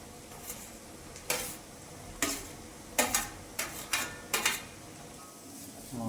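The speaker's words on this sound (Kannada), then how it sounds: "ಇದು ಒಂಚೂರು ಎಡ್ಡೆ ಫ್ರೈ ಆವಡು" Carrots stir-fry in a pan for egg hakka noodles, with a soft, steady sizzle underneath. Sharp scraping and clattering strokes from a spatula or utensil come in an uneven rhythm, several in quick succession near the end.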